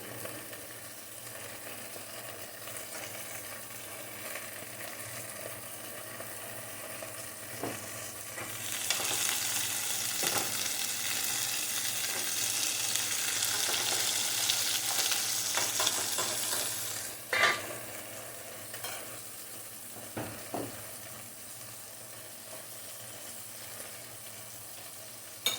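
Chicken curry cooks in butter in a pan, a steady low sizzle that swells into a louder hissing stretch partway through, with occasional stirring clinks and no talking.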